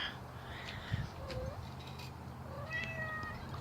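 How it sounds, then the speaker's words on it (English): A cat meows a few times, faint and somewhat distant, in short rising calls over a constant low background hum. "You hear her? Come on, Bernadette. Oh, God love that cat."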